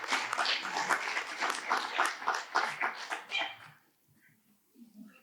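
A conference plenary audience breaks into applause, a quick run of clapping that fades and stops after about four seconds, leaving near silence with a few faint sounds.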